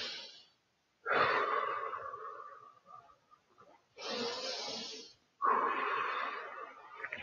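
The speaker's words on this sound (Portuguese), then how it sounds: "a respiração mais profunda, ela tem um som até mais longo" Slow, deep breaths of a patient recovering from anesthesia, each long and airy with a wheezy rasp, repeat close by with short pauses between them.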